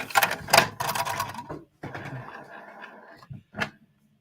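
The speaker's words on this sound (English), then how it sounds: "So got printer noises and stuff" An indoor printer runs in bursts of busy mechanical whirring and clatter, pausing briefly before starting again, fairly close and moderately loud.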